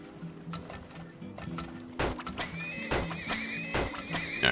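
A horse in the video game Turmoil: Deeper Underground gives a loud, close whinny, mixed with clip-clopping hooves and faint metallic clinks, with no speech.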